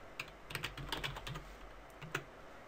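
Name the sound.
typing on a computer keyboard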